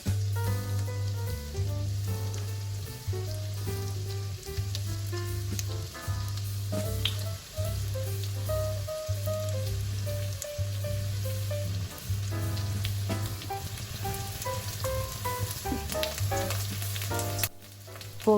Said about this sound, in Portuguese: adiciono azeite e manteiga numa panela wok, e vou colocando os pedaços de frango